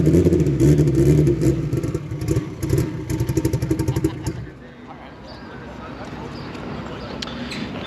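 A turbocharged Honda with a K-series engine revs hard at a car show in California, rapid throaty pulses building and then cutting off, followed by a quieter idle with crowd noise.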